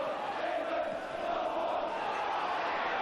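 A festive Liverpool football crowd roars steadily at a 1989–90 home match against Derby, a dense, continuous wash of cheering and chanting with no breaks.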